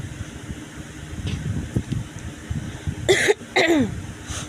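A person with a cold and a hoarse throat coughs twice in quick succession near the end, close and loud, after low indistinct rumbling.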